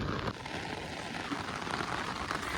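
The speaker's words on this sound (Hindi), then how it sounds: "जोरों से बारिश हो रही है इधर" Heavy rain pours down on a rainy day, a dense, steady hiss of falling water that stays constant throughout, with a brief faint tone near the start.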